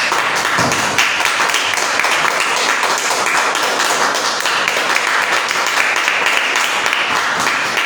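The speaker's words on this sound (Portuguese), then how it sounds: "dá salva de palmas. Vamos dar salva." A church congregation gives a loud round of applause during a live service, with dense, continuous clapping close by that holds steady for about eight seconds.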